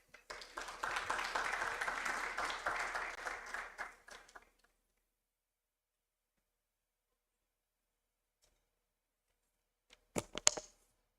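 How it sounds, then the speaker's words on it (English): Audience applause at a post-FY 2025/26 budget dialogue event: steady, dense clapping from a crowd for about four seconds, then silence, followed by a brief renewed burst of claps near the end. "Give Mr. Vincent Bagiri another round of applause."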